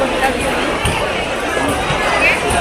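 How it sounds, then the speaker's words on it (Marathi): Dense crowd chatter and hubbub fill a busy exhibition market lined with stalls selling mobile covers, sandals, earrings and ladies' jewellery, a steady wash of many overlapping voices with occasional footsteps. "गर्दी आहे"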